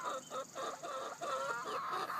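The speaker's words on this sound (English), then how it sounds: "Chickens are wondering what's going on." Several chickens cluck and murmur close by inside a chicken house during a heat wave power outage, a busy, overlapping chorus of soft squawks at moderate level.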